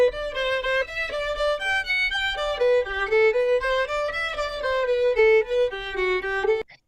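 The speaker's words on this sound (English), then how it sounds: "We've got a violin here and coming in at the input," Solo violin plays a legato melody of connected, clearly pitched notes with rich harmonics, close and dry, ending abruptly after several seconds.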